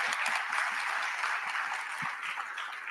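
A conference audience applauds the event staff at an opening session in Dallas, a steady wash of many hands clapping continuously at moderate distance, with no talk over it.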